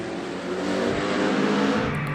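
BMW Z4 race car engine during a race, a continuous loud mechanical roar with a sustained high-pitched whine and steady intensity, close and heard alone without any talk.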